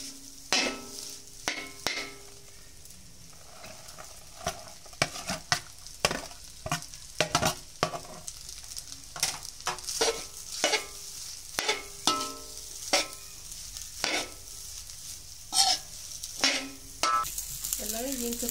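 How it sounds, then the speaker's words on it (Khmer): Rice is stir-fried with duck egg in a pan, giving a steady sizzle under repeated scraping and stirring strokes that come in an irregular rhythm, close up, with no voices. "ឥឡូវយើងធ្វើការចាក់បាយចូលយើងលីងបាយជាមួយពងទា"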